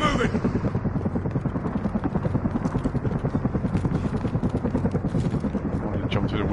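A helicopter in the Call of Duty Modern Warfare campaign gives off a loud, steady rhythmic rotor chop that continues throughout, under gunfire and shouting voices.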